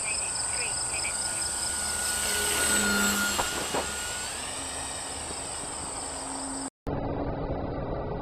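A Dynam Waco RC model biplane makes a low flyby outdoors, a thin electric motor whine sweeping up and falling away over several seconds over a steady insect-like background buzz.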